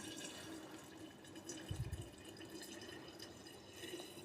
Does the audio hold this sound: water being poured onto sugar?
yes